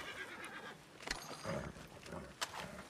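A horse in Red Dead Redemption 2 whinnies amid two sharp, cracking gunshots, fairly quiet and short.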